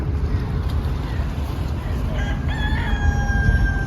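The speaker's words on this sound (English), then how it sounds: "I've never seen a rooster this size before." An unusually large rooster crows outdoors, a rising, drawn-out call that comes in midway over heavy low rumbling background noise.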